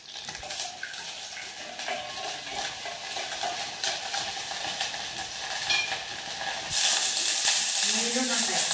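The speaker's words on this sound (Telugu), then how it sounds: "తాలింపు పెడతాం చూద్దాం." Spices crackle and sizzle in hot oil during home tempering for chutney, a soft continuous frying hiss that swells louder near the end, with faint voices in the background.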